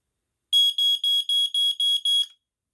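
A Smokey Stover 4002 smoke alarm under test sounds seven loud, piercing, evenly spaced shrill beeps close by, alone with silence before and after.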